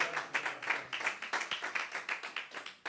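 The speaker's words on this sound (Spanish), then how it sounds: "Alguien le da un aplauso fuerte al Señor" Rhythmic clapping from a church congregation during a Spanish-language sermon, a steady, even beat of hand claps at moderate distance with no speech over it.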